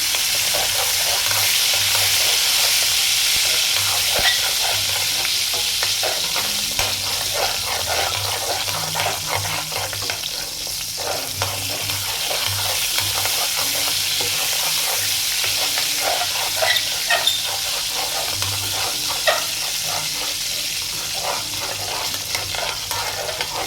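Paneer curry ingredients fry in a pan with butter, giving a loud continuous sizzle and hiss, stirred with occasional scraping and clinks throughout, with no talking.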